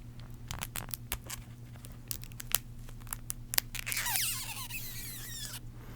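Tight plastic wrap on a playing card deck being picked at and torn open, with close squeaky crinkles, sharp ticks and a longer tearing rustle near the end over a steady low hum.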